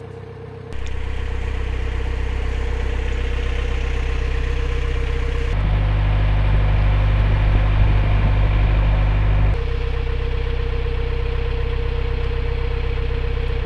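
A narrowboat's diesel engine chugs steadily along the Grand Union Canal near Watford, a low continuous throb with a constant hum, growing louder and rougher in the middle stretch before settling back to an even idle.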